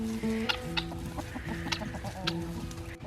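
Chickens cluck nearby in short, steady bursts, with a few drawn-out tonal calls threaded among them.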